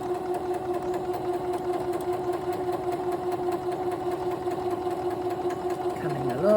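Sewing machine running steadily while stitching a quilt seam, a continuous close mechanical hum throughout with a brief shift in pitch near the end.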